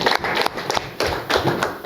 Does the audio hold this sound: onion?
no